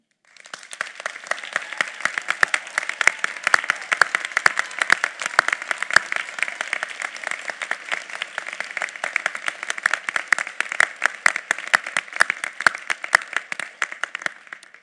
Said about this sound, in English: This is the moment to show your appreciation to them with your applause